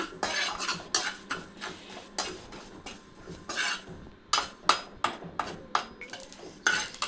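Sesame seeds dry-roasting in a kadai for a mint tomato chutney, stirred with a metal spoon that scrapes and clinks against the pan in repeated quick strokes, close and fairly loud, with no talking.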